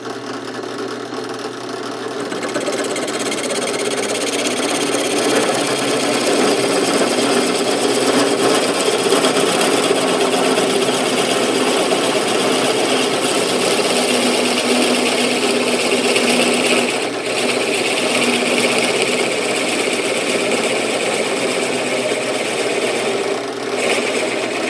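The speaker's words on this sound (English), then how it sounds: "So we're going to drill a 45 degree angle through this piece of wood" A steady, loud power drill whirs continuously, a sustained motor grind boring a 45-degree angled hole through wood for a flag pole, with no talking.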